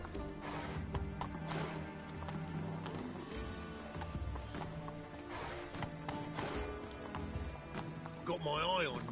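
Hoofbeats of a galloping horse sound in The Witcher 3, a rhythmic clip-clop under game music and voices, with a whinny near the end.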